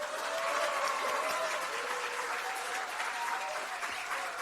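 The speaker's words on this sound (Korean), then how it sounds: "여러분의 큰 박수로 가칭 우리 국민들의 큰 희망이 될 가칭 민주진보개혁연합 중앙당 창당대회를 큰 박수 함성으로 시작하도록 하겠습니다" Sustained crowd applause filling a hall at the founding convention of a Korean political party, a dense, even wash of clapping with scattered cheers, steady from start to finish.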